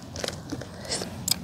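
A person bites into a freshly picked tree tomato and chews it, with several crisp, close crunches spread over a second and a half.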